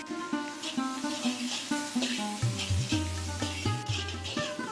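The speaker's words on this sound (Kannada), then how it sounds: "ಈರುಳ್ಳಿ ಚೆನ್ನಾಗಿ ಫ್ರೈ ಆಗಬೇಕು. ಕ್ಯಾಪ್ಸಿಕಮ್ ಕೂಡ ಈರುಳ್ಳಿ ಜೊತೆ ಬಾಡುತ್ತೆ." Onion and capsicum sizzle steadily in a hot pan, a soft continuous frying hiss broken by scraping stirring strokes, close and moderately quiet, with no talking.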